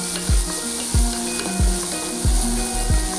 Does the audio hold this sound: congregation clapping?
no